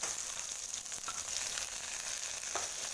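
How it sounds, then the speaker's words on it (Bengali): Okra fries in a pan with a steady, close sizzle and crackle that carries on unbroken throughout, a faint scrape of stirring now and then and no talking. "একটু ভাজা হওয়ার জন্য ঢেঁড়সটা ভাজা হোক"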